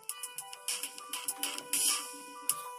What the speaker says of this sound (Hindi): तो ये अब इस वाले स्पीकर की आवाज़ है।